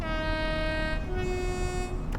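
A locomotive horn sounds in Train Sim World 2 on the Great Western Express at a station, one sustained harmonic blast that drops to a lower tone midway, loud and close over steady engine rumble.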